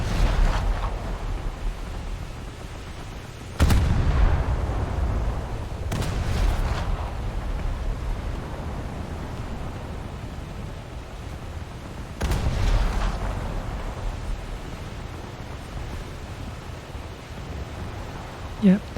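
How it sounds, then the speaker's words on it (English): Naval gun salvos from a Yubari cruiser in War Thunder boom out in a few separate, heavy blasts over a steady rumbling background. "then you let go a salvo"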